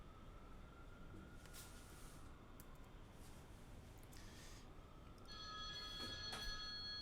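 A phone rings faintly in the background of a quiet room, its tonal electronic ring starting after a few seconds of low hiss and continuing to the end.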